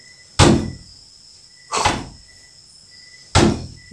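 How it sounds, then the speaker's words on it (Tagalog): An indoor door shifting on its own during a night ghost hunt, with three sharp broadband knocks or thuds spaced over about four seconds, over a steady high insect-like hum. "Gumalaw yung isang pintuan guys."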